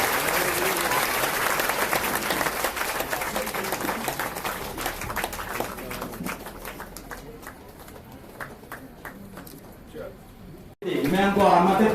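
An audience at a government event with the Chief Minister and Agriculture Minister handing over tractors to women's self-help groups welcomes guests with loud, sustained clapping that gradually thins out before a voice over a loudspeaker resumes.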